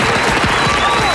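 A live comedy-show audience breaks into brief, dense applause, loud and close, with a faint murmur of crowd sound mixed in.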